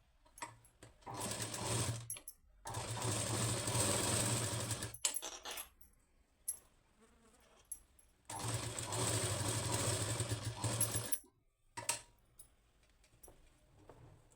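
Sewing machine stitching the neck of a blouse, two long bursts of close rapid mechanical whirring separated by quiet gaps with small clicks and handling noises.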